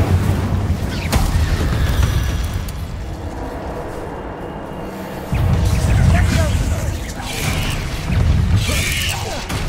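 Incendio fire spell cast in the Hogwarts Legacy game, a rumbling fiery burst with low booming swells and crackling debris, repeated in waves amid dense combat noise.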